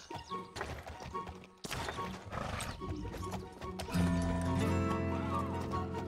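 Horse sounds from the video game Alicia Online: a neigh and clip-clopping hooves under layered game music, busy and fairly loud, with a steady tonal drone joining in the second half.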